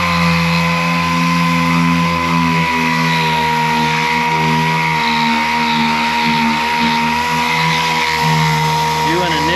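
A pneumatic sander wet sanding cracked boat gelcoat whines steadily at high speed, loud and close, with a voice talking faintly under it.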